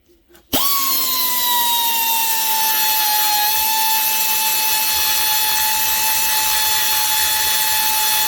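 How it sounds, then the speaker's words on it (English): A die grinder starts abruptly and runs at a steady high whine as it trims an M4 nut clamped in a vise, loud and close, holding a continuous pitch with faint cutting grit for several seconds. "I'll put this in the vise and then just take a die grinder and take a bit of that off."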